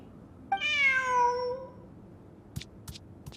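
A single drawn-out cat meow from a Genshin Impact cutscene, clear and close, followed by a few soft clicks and rustles.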